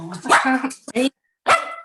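Dogs barking at home, a few sharp barks in quick succession followed by a short pause and then one more, loud and close, with speech overlapping.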